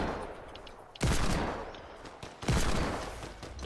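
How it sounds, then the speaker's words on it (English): Gunfire in the Fortnite video game, two sharp loud bursts about a second and a half apart, each trailing off over a quieter background. "There's some shots over there."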